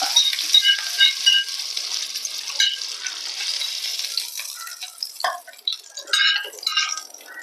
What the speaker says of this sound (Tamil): அந்த சொர சொரன்னு சத்தம் வரும் பாருங்க அந்த சத்தம் குறைஞ்சிரும் எண்ணெயில் பொரியிற சத்தம்